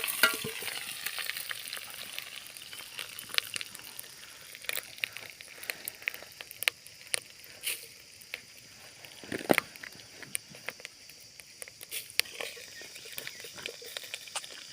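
Curry leaves, cinnamon and chillies crackle and sizzle in hot oil, a soft but busy frying sound full of sharp pops and spits, with stirring noises throughout.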